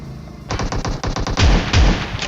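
Rapid bursts of automatic gunfire in a shooter video game, loud and close, with heavy repeated shots in quick succession. Brief pauses separate the bursts, and no scooter engine stands out.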